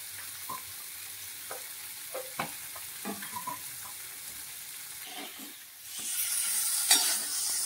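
Cut pieces fry gently in a pan for a mango paneer dish, with quiet scattered clinks and stirring knocks before a brighter hiss of sizzling swells up near the end.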